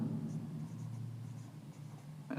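A marker or chalk moving across a board during a trigonometry lesson, a soft faint scratching of short strokes over a steady low room hum, with no talk over it.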